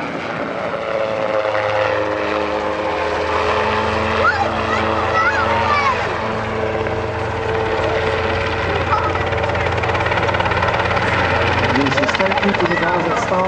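A helicopter flies at an airshow in Durban, its loud, steady rotor and engine drone running throughout, with a commentator talking over it on the public address.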